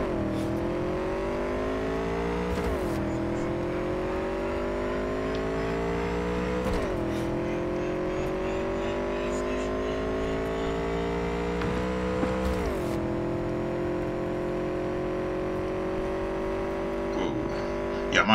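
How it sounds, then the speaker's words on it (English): A motorbike engine in the video game Cyberpunk 2077 revs steadily with a whining, spooling note that climbs, drops sharply at each shift and climbs again, loud and continuous for the whole stretch. "I love how this bike spools up, like you can hear something spooling up in there"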